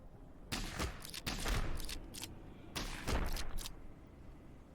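Gunfire in the cyberpunk tactics game Heart of the Machine: two clustered volleys of sharp cracks about two seconds apart, moderately loud against a quiet background.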